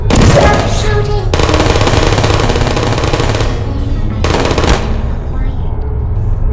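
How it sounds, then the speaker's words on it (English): Loud, rapid turret machine-gun fire from the video game Portal comes in long sustained bursts with brief gaps between them, close and harsh. "Stop shooting!"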